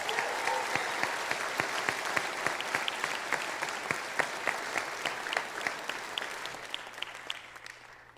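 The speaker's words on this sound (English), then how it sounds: "give a warm round of applause for students graduating today" Steady applause from an audience at a high school graduation ceremony, a continuous wash of many hands clapping at moderate distance, fading slightly toward the end with no talk over it.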